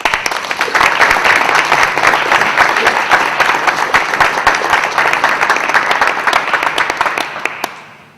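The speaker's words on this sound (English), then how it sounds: "let's give these students a round of applause" An audience at a college fine arts hall of fame induction gives students a round of applause, a loud, sustained crowd clapping with scattered sharp claps that tapers off near the end.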